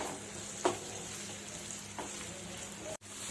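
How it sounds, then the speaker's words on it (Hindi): Finely chopped potatoes frying in a pan over a medium flame give a quiet, steady sizzle with a couple of soft clinks or stirs. "तो 5 मिनट हो गए हैं आलूओं को फ्राई होते हुए।"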